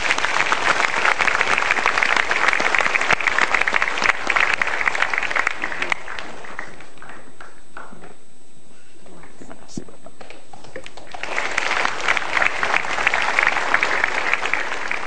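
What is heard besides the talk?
applause for the parents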